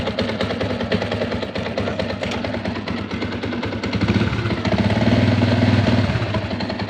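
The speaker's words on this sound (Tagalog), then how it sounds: "Ayun, ingay yung makina niya." A noisy Yamaha Sniper 150 motorcycle engine idles steadily up close, its rough rumble swelling louder for a moment before settling back.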